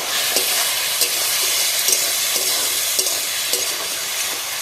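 Crab masala curry with chopped coriander being stirred in a pan, a loud continuous sizzle with rhythmic spoon taps and scrapes about once a second, no talking.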